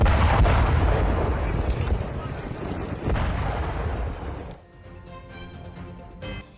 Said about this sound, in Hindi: हूती विद्रोहियों के ठिकाने बताए जा रहे हैं जहां जोरदार विस्फोट हुआ है, कई धमाके किए गए हैं